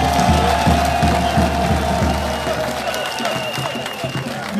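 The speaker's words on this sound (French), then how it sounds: "Applaudissez pour vous-même." Applause and cheering from a crowd at an outdoor tribute ceremony in Tabagne, Bondoukou, loud and sustained with a steady low rhythmic thumping underneath and voices mixed in throughout.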